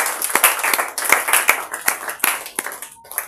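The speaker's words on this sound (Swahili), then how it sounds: "Pigie Bwana Yesu makofi" A church congregation claps for Jesus during a sermon, with sharp, uneven hand claps rising and falling in a lively, close-up burst that fills the room.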